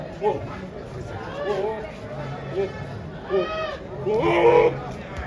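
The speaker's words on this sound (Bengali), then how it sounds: "সুন্দর সুন্দর পাঠা ছাগলগুলো কিন্তু পেয়ে থাকবেন আপনারা প্রচুর পরিমাণে" Goats bleat a few times among the crowd chatter and talk of a busy goat market at Tebaria haat in Natore, the calls short and mid-distance under a voice.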